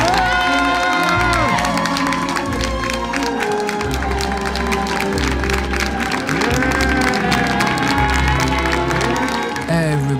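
At a Paris haute couture fashion show for Schiaparelli, a large audience cheers and screams loudly and continuously, a dense wall of shouts and whoops with a tonal backing underneath.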